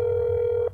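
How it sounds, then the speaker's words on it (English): A steady telephone dial tone from the video game That's Not My Neighbor, one continuous pure tone that cuts off abruptly near the end, with no speech. "I'm gonna call his phone."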